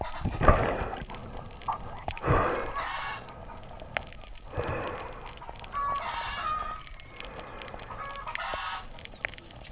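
Chickens cluck and squawk in short, scattered bursts, fairly close, with one brief high rooster-like note; no talking.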